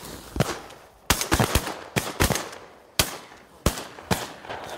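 Shotguns are fired at incoming ducks on a Minnesota duck hunt, with sharp blasts landing singly and in quick pairs at irregular intervals, loud and close.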